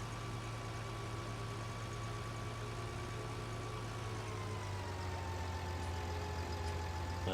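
A Puma tractor in a farming game drones steadily while towing a plough, its engine a constant mid-low hum with a faint tonal whine, unbroken and without voices.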